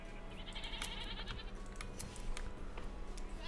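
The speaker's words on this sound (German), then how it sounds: "hier sind schon die Ziegen da" Minecraft goats bleating in a dim forest game world, short wavering cries repeated over a steady low background hum, fairly faint and with no talk.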